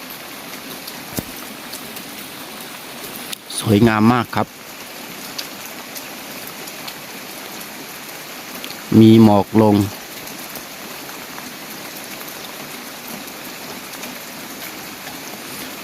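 Rain falls over rice terraces at Pa Bong Piang in Mae Chaem, Chiang Mai, heard from a hillside hut as a steady, even hiss throughout, with a voice speaking briefly twice over it.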